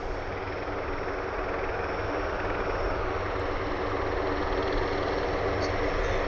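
Two V-22 Osprey tiltrotor aircraft taxiing on an airport runway, their engines a steady, broad, loud rumbling roar that holds unbroken throughout with no pauses.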